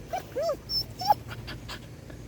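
A dog whines in short, high-pitched whimpers, several thin cries close by in a quiet room.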